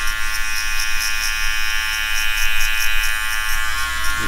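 Electric hair clipper buzzing steadily and close up while cutting a skin fade, a continuous high-pitched motor whine with slight rhythmic pulsing as the blade moves through the hair.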